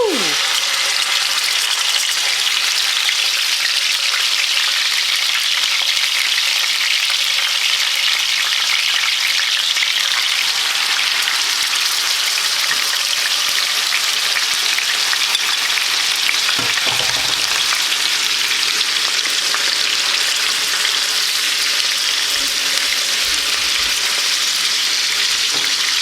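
Marinated pork chops fry in a hot pan with a steady, loud, continuous sizzle and crackle that holds evenly throughout, with a faint low thump partway through and no talking.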